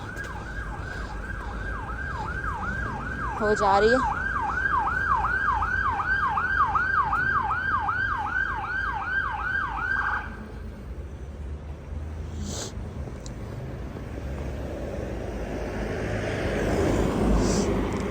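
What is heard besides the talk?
passing ambulance siren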